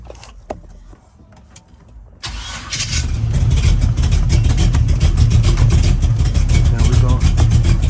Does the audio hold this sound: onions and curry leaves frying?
no